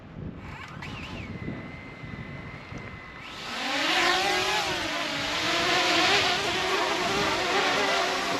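A repaired DJI Mini drone, its broken arm fixed with Gorilla Glue epoxy and fitted with new propellers, spins up after a few seconds of quiet background and hovers close by with a steady, wavering high buzz on a breezy day.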